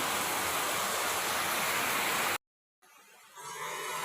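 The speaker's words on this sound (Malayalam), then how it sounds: "കടുത്ത മഴ തുടങ്ങിയിട്ടുണ്ട്" Heavy monsoon-style rain pours outside, a loud, dense, steady hiss and roar that cuts out abruptly for a moment, then returns more quietly and builds again.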